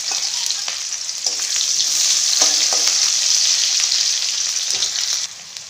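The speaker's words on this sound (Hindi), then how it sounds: "और जब लहसुन और मिर्ची लाल हो गए, उसके बाद मैं डालत हूँ एमे ये प्याज ला।" Onion hits hot oil already frying garlic and red chillies, giving a loud, close, steady sizzle with occasional stirring clicks that fades slightly at the end; no one speaks.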